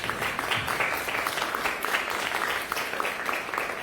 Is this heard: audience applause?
yes